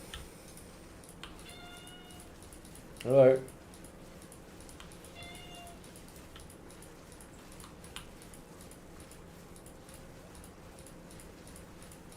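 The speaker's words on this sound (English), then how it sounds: "Oh, got a cat in the room." A house cat lets out a single short meow at close range in a quiet room, with faint ticking in the background and a brief spoken greeting elsewhere.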